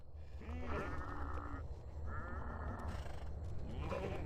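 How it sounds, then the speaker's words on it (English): Goats bleat repeatedly across a city in EverQuest II, several wavering calls overlapping one another in close succession over a low ambient background. "I'm in a city of goats, so they're all bawling"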